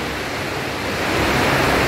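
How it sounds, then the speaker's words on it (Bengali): Fans running inside a metro train, with surrounding background noise forming a constant loud broadband rush that swells slightly toward the end, with no voices. "ফ্যান ট্যান চলছে, চারিদিকে একটু নয়েজ আসছে সেই জন্য।"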